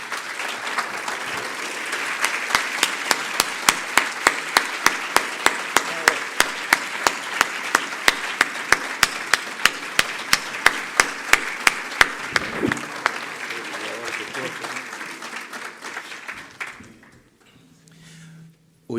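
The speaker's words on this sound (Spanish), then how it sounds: "la bienvenida tiene que ver con el aplauso" An audience at a Santa Fe literary event applauds to welcome a speaker, a dense crowd clapping that settles into rhythmic unison claps, then fades out near the end.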